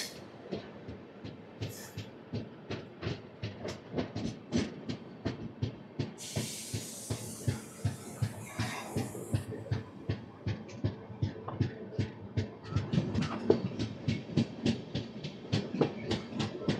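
Tirupati AC Double Decker Express crossing a rail-over-rail bridge near Gudur, its wheels beating a steady, rapid clickety-clack over the joints throughout, with a brief hissing rush partway through and no voices.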